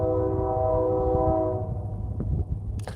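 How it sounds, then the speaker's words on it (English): A train horn blares in a steady, loud tone for about a second and a half, heard outdoors in frigid northern Canada, then gives way to the low rumble and rattle of rail cars rolling past. "told you it was a train"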